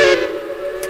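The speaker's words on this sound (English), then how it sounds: "For those of you who are whistle fans, that is the Ashton 3 chime." A three-chime Ashton steam locomotive whistle in a train game sounds one short, loud, chorded blast that holds steady, then cuts off.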